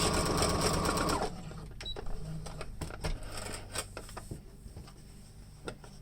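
A sewing machine back stitching at the end of a seam on a fabric face mask: a loud, fast steady needle whir for about a second, then stops, followed by quieter handling clicks and rustles.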